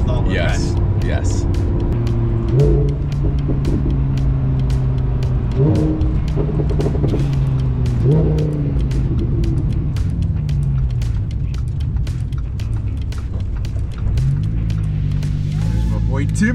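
Lamborghini all-wheel drive sports car engine droning and shifting through gears from inside the cabin, loud and steady with rising and falling revs as people talk over it.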